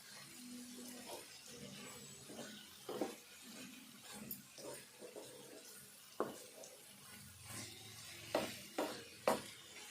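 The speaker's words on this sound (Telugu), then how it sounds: "ఇట్లా కలుపుతూనే ఉండాలి. కలుపుతా అంటే దగ్గరికి వస్తుంది, మంచిగా వేగుతుంది" Spine gourd pieces fry gently in a pan while a spoon stirs them, giving a soft steady sizzle broken by a series of sharp scraping and clinking strokes against the pan, close and moderately loud.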